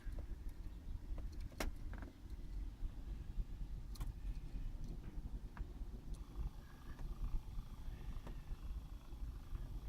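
A 1996 Volvo 850R air-conditioning damper motor runs in reverse as a low, steady whir and hum throughout, with a few faint clicks and ticks but no voices.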